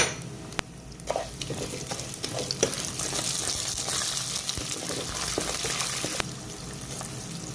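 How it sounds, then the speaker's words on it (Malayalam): Steady sizzling and crackling of mustard seeds and urad dal frying in hot oil, with occasional stirring clinks, continuous and fairly loud throughout. "കടുക് പൊട്ടിയതിന് ശേഷം ഇതിലേക്ക് ഉഴുന്ന് പരിപ്പ് ചേർത്ത് കൊടുക്കാം"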